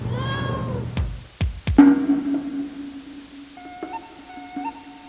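A domestic cat meows a few times up close, short wavering cries with a tonal whine carrying through the middle of the clip, loud against a quiet room.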